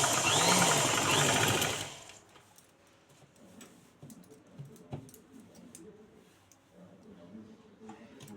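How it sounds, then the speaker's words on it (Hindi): A sewing machine stitches a cotton blouse, running loud and close in a fast whirring burst for about two seconds before stopping, followed by faint ticks and handling clicks. "यहाँ से हम सिलाई डाल देंगे"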